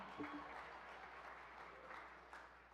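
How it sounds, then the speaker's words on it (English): A state-of-the-state address audience in a legislative chamber gives a short round of applause, a steady wash of clapping through the whole stretch that swells slightly near the end, with no talk over it. "some claps over here"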